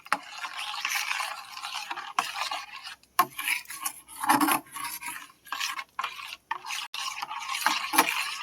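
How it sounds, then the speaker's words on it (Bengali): A spoon stirs powdered Amul milk into hot water, making close scraping and rubbing strokes against the vessel in irregular bursts separated by brief pauses, with no voices. "গরম জলের মধ্যে দিয়ে এটা গুলিয়ে নেব। একটা চামচ দিয়ে ভালো করে গুলিয়ে নেব দুধটা।"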